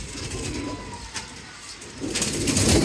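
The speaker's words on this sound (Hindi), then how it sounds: "थोड़ी बड़ी एज का कबूतर है दोस्तों" Soft pigeon cooing in a loft setup holding a fairly mature pigeon and its mate, faint and intermittent over a steady background hum, with a louder rustle near the end.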